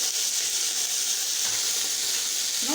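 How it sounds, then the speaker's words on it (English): Potatoes and mixed vegetables frying in a pan, a steady broad sizzle running throughout at close range with faint stirring scrapes near the end, no voices. "Now you have to fry for about 3 to 5 minutes."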